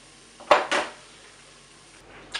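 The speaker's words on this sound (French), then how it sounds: "Puis ça me permet de mélanger encore mes rondelles de pommes de terre." Potato slices stirred in a Cookeo multicooker pot, with two sharp utensil scrapes and clinks against the metal pot close up, then a quieter stretch and a final clink.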